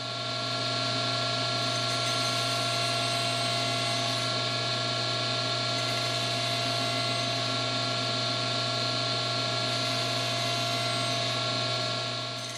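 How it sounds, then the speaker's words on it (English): A table saw with its blade raised to one inch nibbles away wood for haunch cuts, a loud, steady whine with strong tonal bands that runs without a break, and no voices over it. "I've raised the blade up to cut 1 inch, and I'm just going to nibble that material away"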